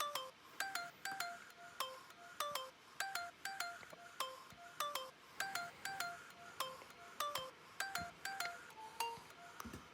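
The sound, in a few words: electronic lead sound for vocal chops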